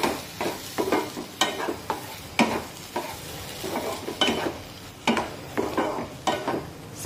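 A spoon stirs jaggery semolina sheera in a kadhai, giving repeated scraping strokes against the pan with a faint sizzle between them.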